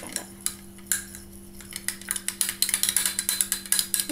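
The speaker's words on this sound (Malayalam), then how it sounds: "ഞാൻ നന്നായിട്ടൊന്ന് മിക്സ് ചെയ്തിട്ടുണ്ട്." Slime mixture is stirred and mixed in a bowl, giving a quick, rhythmic run of scraping clicks and taps that grows steadier and a bit louder, close up and without speech.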